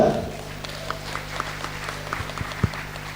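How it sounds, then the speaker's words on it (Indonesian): An indoor audience claps for a seminar speaker, starting with a burst of applause that tapers into scattered individual claps, set against a steady low hum from the room. "Kita berikan tepuk tangan untuk Bapak narasumber kita."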